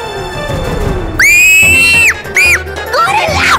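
A person imitates a gorilla with loud, high-pitched scary screams, two long wailing cries followed by shorter shrieks, close and forceful over background noise.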